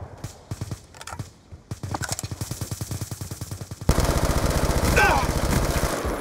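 Gunfire in Call of Duty: Black Ops 2, rapid automatic bursts of close, punchy shots, first sparse then a steady rattling stream, swelling into a louder, denser volley near the end.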